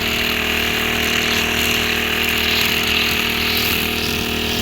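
A hired grass-cutting machine in a pomegranate orchard runs at a constant high-revving motor whine, loud and close, steady for the whole stretch without breaks and without talking.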